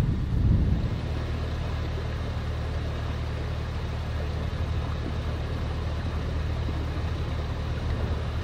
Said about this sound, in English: And there's a boat coming.